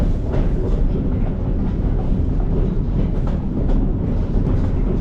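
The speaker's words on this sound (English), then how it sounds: "Train ride this is." A train on the Bala Railway in Wales rumbles steadily along the tracks, a loud continuous roll with faint rhythmic clatter, heard from inside the moving carriage.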